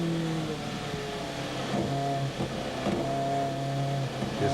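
TVR Tuscan Challenge race cars from 1995 lap Spa Circuit at high speed, their engines a steady loud drone with shifting pitch as the cars pass continuously.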